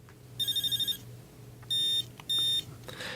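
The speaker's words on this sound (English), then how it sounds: "there you had the introduction of the 3rd type of beep, which they call a wave. I think it's more like a warble." An electronic coded date time signal sounds as a quick run of short beeps followed by two longer warbling tones, clear and close over a low hum.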